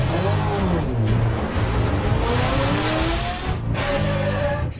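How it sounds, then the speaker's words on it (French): A McLaren sports car pulls up loud and close, engine roaring and tires squealing, with a sustained skidding whine over the rumble. "C'est la voiture du PDG."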